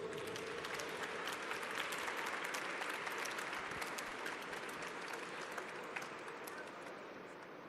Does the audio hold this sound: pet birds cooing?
no